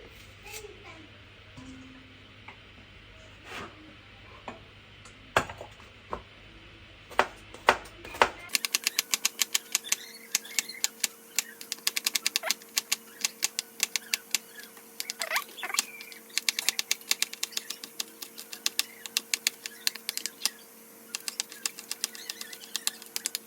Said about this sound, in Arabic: تعالوا بقى هنمسك البصل ده نقطعه كده